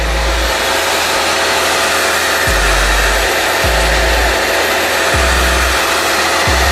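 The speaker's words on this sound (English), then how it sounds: "I can take the hair dryer, probably force that along." A hair dryer blows loudly and steadily, its airflow roar constant, with a low motor hum that cuts in and out several times.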